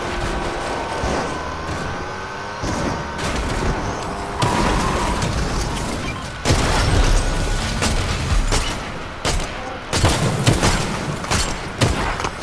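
Gunfire in the battle royale game Fortnite, a busy run of scattered shots and booming impacts over steady in-game background noise, loud and continuous.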